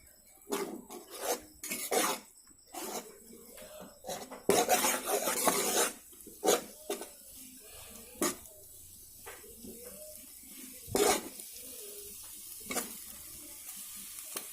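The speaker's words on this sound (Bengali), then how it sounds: "ডিমটাকে এইভাবে ঘেটে ঘেটে একদম পুরো ছোটো ছোটো টুকরো করে নিতে হবে" Egg being stirred and broken into small pieces in a frying pan for egg khichuri, with repeated scraping strokes of a spatula over soft sizzling, irregular bursts close by, no talking.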